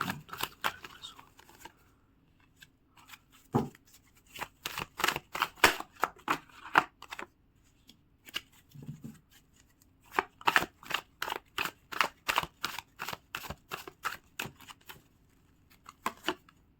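A deck of tarot cards is shuffled repeatedly, giving bursts of rapid riffling and flicking card slaps with short pauses between rounds, close and fairly loud, with no talking over it.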